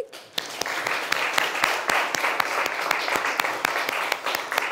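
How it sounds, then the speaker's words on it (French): Studio audience at a French football television show applauding a team captain, steady mixed clapping with sharp individual claps throughout, fairly close and moderately loud, no talking over it. "On applaudit?"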